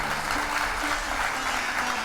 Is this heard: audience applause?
yes